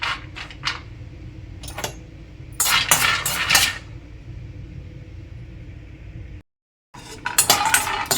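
Almonds dry roasting in a pan over a slow flame, with scattered clinks and rattles as the nuts shift against the metal, bursts of scraping and a brief gap of silence near the end.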